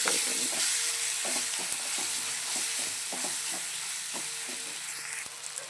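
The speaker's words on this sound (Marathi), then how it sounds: "आणि सगळे जिन्नस मिक्स करायचे आपल्याला, छान असे सगळे जिन्नस मिक्स केले जाते." A spoon stirs spices and ingredients for veg khichdi in a hot pan, making a continuous sizzle with regular scraping strokes roughly every half second, close and alone without speech.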